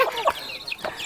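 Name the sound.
chickens clucking in a tribal hill village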